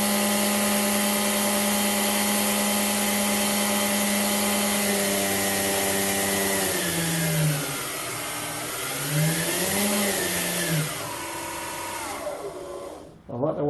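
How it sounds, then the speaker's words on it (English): A 775 DC motor runs on a GOPHERT CPS-6005 60V 5A variable power supply, giving a steady high whine that holds level, then dips and rises in pitch several times as the voltage shifts before cutting off abruptly. "we'll run the 775 motor through some voltages."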